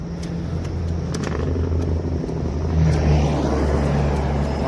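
Heavy trucks rumble along a highway below, a steady low roar of traffic under the vantage point at night, swelling slightly as a louder vehicle passes, with no voices.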